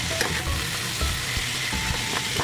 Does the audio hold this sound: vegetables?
yes